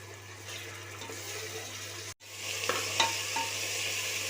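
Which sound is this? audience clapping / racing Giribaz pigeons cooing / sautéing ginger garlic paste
sautéing ginger garlic paste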